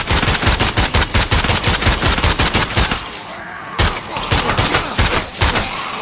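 Rapid bursts of automatic gunfire in State of Decay 2, loud and close, with dense overlapping shots, a short pause midway and then more firing.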